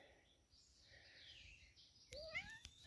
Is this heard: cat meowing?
yes